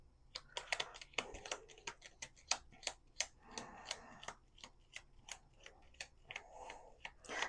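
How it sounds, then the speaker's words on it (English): Crisp, rapid riffling clicks of cards being shuffled, a dense run of sharp ticks with short pauses, close and clear with no talking. "we're going to do 2 more shuffles here"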